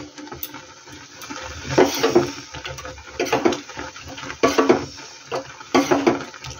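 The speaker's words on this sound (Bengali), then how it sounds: "এই যে টকবক টকবক টকবক করে ফুটছে" Milk kheersa filling for patishapta boiling in a pot, with irregular popping bubbles and soft plopping bursts rising and falling in clusters.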